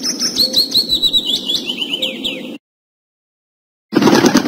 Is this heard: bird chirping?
yes